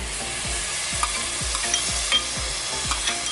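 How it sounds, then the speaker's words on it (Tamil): A ground mint, coriander and chili masala sautés in a pan, giving a steady sizzle with a rhythmic scrape of the spoon stirring about twice a second, close and without talk. "புதினா, கொத்தமல்லி, அரைச்ச மசாலாவை சேர்த்து நல்லா பச்சை வாசனை போக வதக்கியாச்சு"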